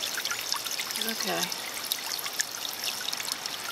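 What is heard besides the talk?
water being poured out of a plant pot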